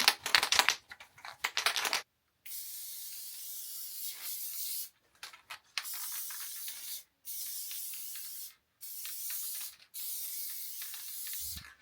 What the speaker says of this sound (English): So I'm gonna spray the top and the bottom.